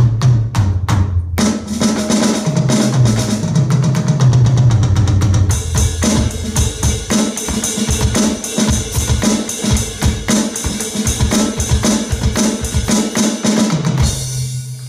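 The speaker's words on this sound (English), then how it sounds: "what you've got is a standard acoustic drum set. So I'm just going to play that for you now" A Spur RD522P electronic drum kit set to a standard acoustic kit sound is played as a busy groove, with loud, rapid kick, snare and cymbal hits continuing throughout and no talking.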